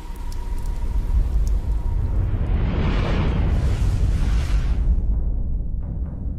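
Steady, loud wash of falling rain with a broad hiss that swells in the middle, no voices.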